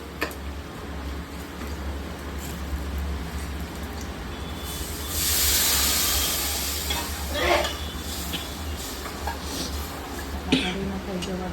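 Garlic and chilies sizzle in hot oil as a tempering for kadhi, a quiet hiss that flares briefly into a louder spitting burst, with a few clinks and talk over it.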